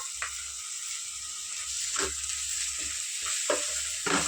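Ginger paste frying in a pan with onions, green chillies and curry leaves, giving a continuous bright sizzle with occasional scraping stirs, close and alone without speech.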